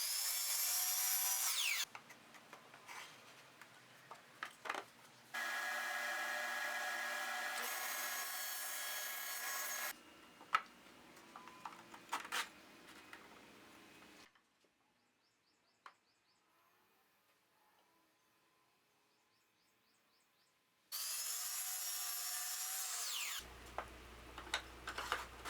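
Miter saw crosscutting walnut pieces and a dado stack cutting dados for jewelry box dividers, loud sustained whining cuts in several bursts separated by a quiet stretch with faint shop noises, no talking.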